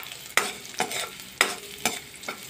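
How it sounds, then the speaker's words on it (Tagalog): Garlic and onion sautéing in oil in a pan, with crisp sizzling and several distinct stirring scrapes at a roughly regular rhythm, close and alone without talk. "igigisa ko siya sa bawang at sibuyas guys"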